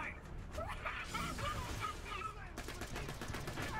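Rapid gunfire bursts from the video game Borderlands: The Pre-Sequel during a boss fight, close and loud and filling the whole stretch, with a player talking over the shooting.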